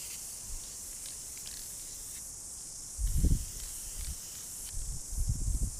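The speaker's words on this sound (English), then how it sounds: "It worked nicely. Spray a few more dots." Aerosol spray paint misting dots onto a paper shooting target used to check black-powder rifle groups, a few soft short hisses close by over a steady high outdoor hiss, with no talk.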